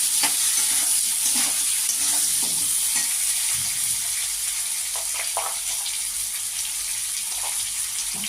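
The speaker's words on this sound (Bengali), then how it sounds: "এবার আমি আলু দিয়ে দিলাম আলুটা নেড়ে চেড়ে" Potatoes frying with browned onions, a loud, continuous sizzle with intermittent scraping and knocking as the pan is stirred.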